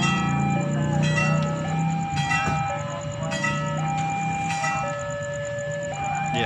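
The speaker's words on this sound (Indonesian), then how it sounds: "Pintu perlintasan kereta api sudah terdengar" An Indonesian railway level crossing bell rings in a fast repeating pattern near a station as the Serayu Malam night train prepares to depart, loud and close over a low rumble of rail activity.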